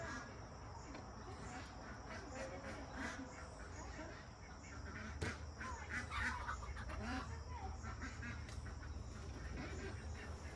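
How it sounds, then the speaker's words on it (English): Ducks and chickens being put into their houses at night: a low, constant crowd murmur with scattered quacks and clucks over steady background noise, with no single call standing out. "we are putting the birds in for the night"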